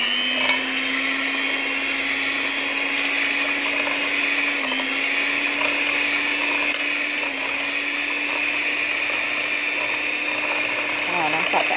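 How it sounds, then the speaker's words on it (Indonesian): An electric hand mixer whisks separated egg whites on slow speed for cloud eggs, a steady continuous motor whine with a constant pitch and faint whirring throughout, close and unbroken. "kita akan on slow kita punya mixer. Okey, dan mula ni sampai dia jadi fluffy"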